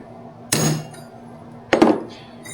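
Two sharp metallic whacks of a hammer on a center punch gripped in vice grips, marking a starter hole; the strikes land about a second apart, loud and close, each ringing briefly before fading.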